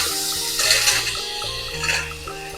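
Vegetables sautéed in a pan for masale bhaat, a low sizzle under repeated scraping and clinking of a spoon against the pan as the mix is stirred, with steady background music.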